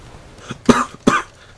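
Two close, harsh coughs in quick succession, loud and near, with a faint breath before them.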